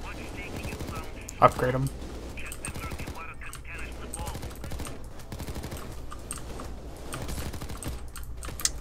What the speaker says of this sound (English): the beginning guns do kick a lot, but as you upgrade, you can use your money to